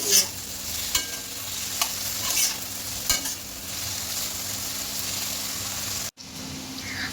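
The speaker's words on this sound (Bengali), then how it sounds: "আলুটা ভাজা হচ্ছে" Potatoes sizzle and crackle in a hot pan for an egg, potato and red lentil dal while a utensil scrapes and stirs now and then, steady frying noise throughout.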